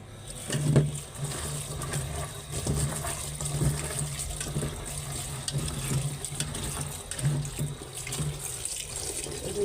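Tap water runs steadily over freshly cut ridge gourd pieces in a kitchen sink, with a continuous splashing rush and small clatters as the pieces are handled. The flow is close and lasts throughout.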